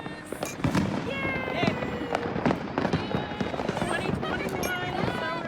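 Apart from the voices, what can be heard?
fireworks popping outside on New Year's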